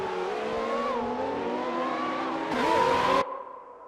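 An F1 race car in a classic-era racing video game, on the Austria or France circuit, holds a steady, whining engine tone that shifts pitch and swells louder near the end before cutting away.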